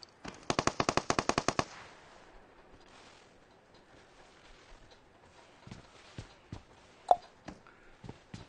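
Gunfire in PUBG Mobile: a rapid burst of about a dozen automatic shots, followed by scattered single shots and distant pops, one sharp loud crack near the end, no speech.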